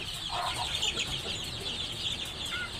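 Large-breed hill chickens cluck softly and intermittently close by in Chattogram, Bangladesh, against a steady background hiss, with no talking.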